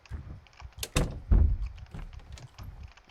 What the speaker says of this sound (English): So now he's banging on the door.